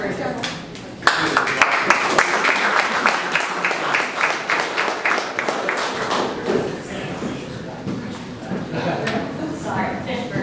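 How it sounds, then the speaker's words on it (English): An audience at a startup pitch event breaks into applause for a presenter, loud dense clapping starting abruptly after a second and holding steady to the end, with some voices mixed in. "please give a warm round of applause for our second presenter"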